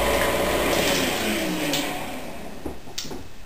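An electric mixer whirs steadily as it blends thin chocolate cake batter, a continuous motor drone that eases off and winds down toward the end, with a few faint clicks and no talking.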